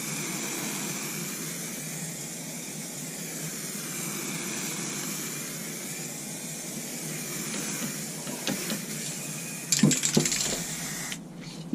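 Gloss sealer sprayed onto a skull walking stick, a steady continuous hiss lasting several seconds, fairly close, followed by a few short clattering handling noises near the end.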